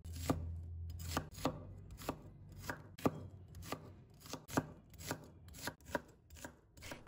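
A knife chopping small onions into small pieces on a board, about fifteen crisp, close knocks at an uneven but steady pace, with quiet gaps between strokes.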